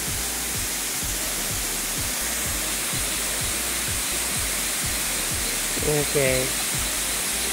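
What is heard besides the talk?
waterfall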